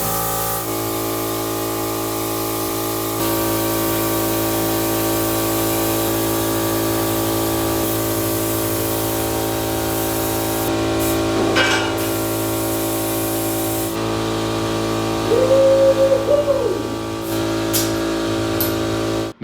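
A steady hissing spray of rust prevention coating runs across a metal expedition truck habitat, continuous and close, with brief tool clatter and a short squeaky tone partway through.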